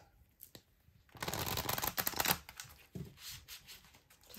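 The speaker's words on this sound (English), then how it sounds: "I'm going to be pulling some oracle cards for you now." Oracle cards shuffled by hand, a soft papery riffling that swells for about a second and then tapers off into lighter flicks, close and quiet.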